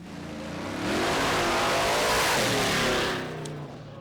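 A big truck engine revs hard, swelling into a loud, sustained roar for a couple of seconds before easing back, close and dominant with no voices.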